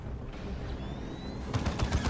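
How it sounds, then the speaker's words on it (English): Plasma cannons and heavy bolters fire in a Space Marines versus Orks battle in Dawn of War 2, a rattle of distant gunfire that builds into sharper, louder bursts near the end. "double plasma cannons and some heavy bolter action"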